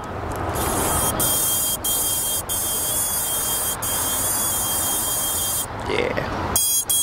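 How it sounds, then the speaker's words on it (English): A micro drone plays electronic startup tones, the Imperial March, in a short melodic sequence over a constant loud whirring hiss, with a few sharp clicks along the way. "And listen to the startup tones."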